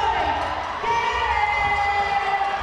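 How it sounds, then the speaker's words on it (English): Crowd at a roller derby championship game cheering and shouting at moderate distance, a continuous roar with a raised voice riding over it. "The crowd getting a little fired up"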